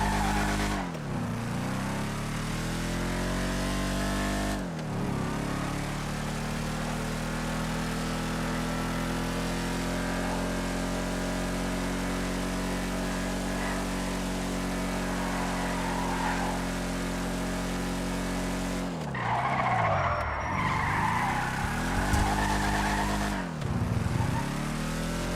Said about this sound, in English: Okay, the car's got some decent speed. Turning is okay.